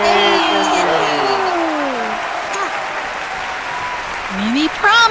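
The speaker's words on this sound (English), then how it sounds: "give her a big round of applause" At a children's giant snail race event, a group gives a steady wash of applause while several voices cheer and call out over it, swelling again near the end.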